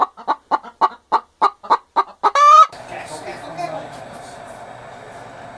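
A person's voice imitates a hen, a rhythmic run of about ten short clucks that builds into one drawn-out cackle, loud and close, then fades into quiet room noise.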